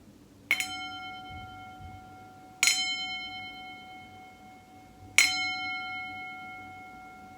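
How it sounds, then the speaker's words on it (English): A meditation bell is struck three times at slow, even intervals, each strike a bright ring with a long shimmering decay, heard alone and close in a quiet room. "When I ring the bell, see if you can hear the sound of the bell new for the first time."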